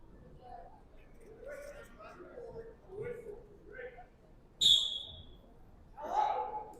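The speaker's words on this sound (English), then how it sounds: "Good sit out by Putt at the whistle" Referee's whistle blown at a high school wrestling match, Tyrone versus Hollidaysburg, sounding as one sharp shrill blast and then a second, lower toot amid gym crowd noise and commentary.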